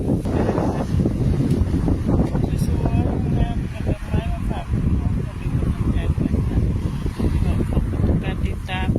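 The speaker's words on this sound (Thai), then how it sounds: "ลมโชยมา ไม่ร้อนมาก" Breeze blowing across an outdoor microphone on a roughly 27-degree day, continuous rumbling wind buffeting with gusty surges, loud and close, while someone talks over it.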